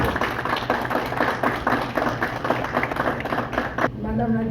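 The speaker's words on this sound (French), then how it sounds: "Sous vos applaudissements, s'il vous plaît." An audience at an opening ceremony bursts into applause, a dense patter of clapping hands that holds steady for a few seconds before cutting off, with a voice just audible through the din.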